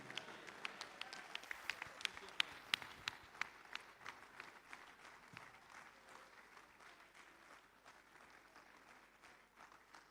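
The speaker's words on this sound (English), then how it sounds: "Please, let's continue to give her the warm applause." Audience applause at a conference, a dense burst of clapping from a large crowd in a hall that gradually fades and thins out over about ten seconds, with no one speaking.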